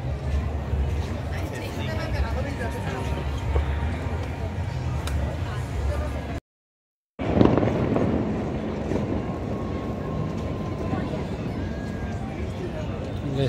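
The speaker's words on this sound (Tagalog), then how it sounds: "nagsimula na yung fireworks." Fireworks pop and crackle in the distance over a chattering crowd at Marina Bay, heard from level 4 of the Expo Sands, with a short moment of total silence partway through.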